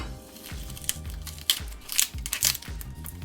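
A knife slicing through a shallot with its papery skin still on, close crisp crunches and crackles in a few quick strokes with soft thuds on the board between them.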